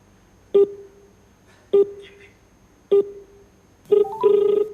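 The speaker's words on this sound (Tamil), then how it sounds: "நம்ம இப்ப அதே நம்பருக்கு ஃபோன் போட்டு பார்ப்போம்." Four separate electronic phone tones as a number is dialed, evenly spaced about a second apart, the last one longer and denser, with no voices.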